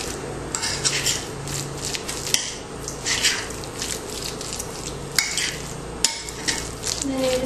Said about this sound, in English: You're going to add your mayonnaise and your mustard. And you're just going to mix those in together.